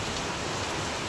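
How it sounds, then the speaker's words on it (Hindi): Heavy rain pours steadily outdoors as a dense, continuous hiss with no breaks, loud and even throughout, with no talking. "देखो दोस्तों बहुत बारिश हो रही है।"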